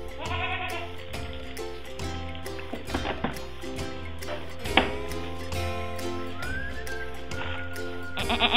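Baby goats bleating on a farm during a farm tour, repeated wavering bleats from several animals at close range over steady background noise, with a brief sharp sound near the middle.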